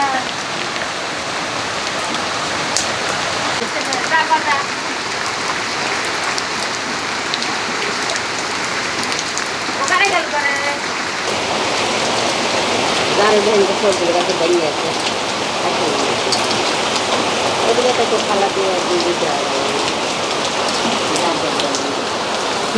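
Heavy rain pours steadily throughout, a dense continuous patter, while people talk over it.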